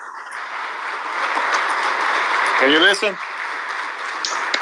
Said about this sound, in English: They're applauding right now at the floor.